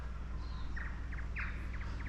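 Seagulls call outdoors in a few short bursts of quick, high chirping cries over a steady low background hum, with no talking.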